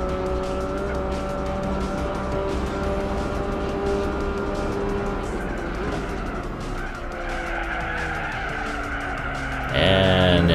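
A race car in the video game Gran Turismo 4 skids with a long tire squeal over the engine drone. Near the end it hits a wall with a sudden loud crash-like burst.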